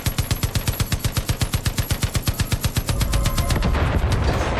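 Rapid automatic gunfire in the video game Far Cry 5, a steady stream of about six shots per second for nearly three seconds, loud and close, then giving way to a dense roaring burst of noise.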